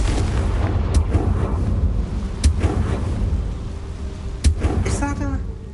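Confringo fire-spell explosions in Hogwarts Legacy: a steady roaring rumble under several sharp booming cracks at uneven intervals, with a short tonal chime near the end.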